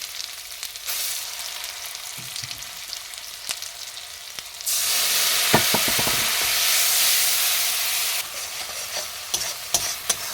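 Ground spice paste with Kashmiri chilli frying in oil for a tangra fish curry, a constant crackling sizzle that swells into a loud, dense hiss midway, with scattered clicks of stirring.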